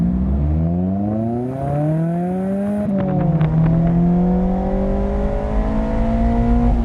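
A 2023 Mazda MX-5 Miata pulls away and accelerates, its engine note climbing steadily through the revs with a brief shift pause partway, loud and close with nobody talking.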